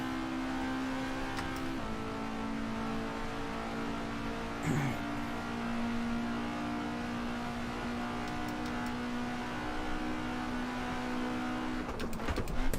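A race car engine in the Assetto Corsa racing game holds a steady high drone throughout, with a gear change early on and a brief squeal midway, fairly loud and continuous without talk.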